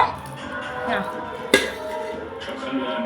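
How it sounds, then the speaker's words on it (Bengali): Hot rice is served onto a plate with a clear metallic clink midway and soft scraping around it, over steady low background sound. "এখানে গরম গরম ভাতটা বেড়ে নিচ্ছি থালাতে"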